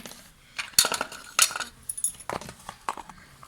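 A spoon clinks against a bowl while a spoonful of salt is added to fries, giving a few sharp, bright metallic taps and scrapes close by with short gaps between them.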